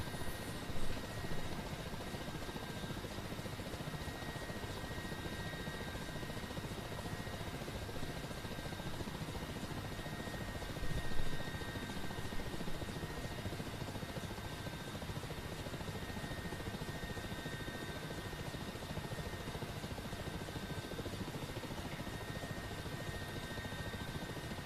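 An Mi-8 helicopter in the combat flight simulator DCS World flies with a continuous, dense rotor and turbine drone that stays steady throughout, with a brief louder bump midway.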